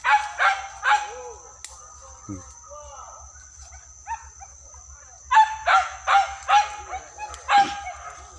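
Hunting dog barking during a wild boar hunt in the forest near Jaruai, Solok regency, a few sharp close barks in bursts at the start and a rapid volley later, over steady insect chirring and faint voices.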